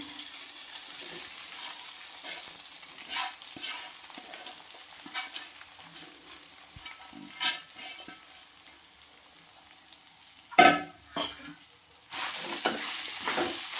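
Flattened rice poha being mixed in a frying pan for upma gives a low, steady sizzle and soft scraping, with occasional louder clatters of the spoon against the pan near the end, no talk.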